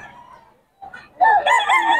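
A rooster at a poultry sale crows loudly and close by, a long wavering call rising after a brief quiet and some softer clucking at the start.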